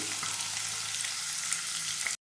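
Onions, green chilies and fenugreek seeds frying in hot oil for a taro root curry, a loud continuous close sizzle that cuts off abruptly.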